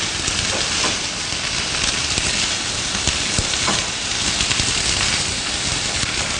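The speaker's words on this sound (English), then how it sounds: "To this, we're going to add our blanched vegetables, the cauliflower and the carrots. And mix." Blanched cauliflower and carrots are stirred in a hot frying pan for a vegetable jalfrezi, giving a steady loud sizzle with scattered soft scraping and clatter throughout, no voices.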